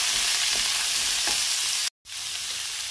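Meat sautéed with onion and tomato in a pan sizzles loudly and steadily, with a couple of soft stirring scrapes and a brief cut to silence near the end.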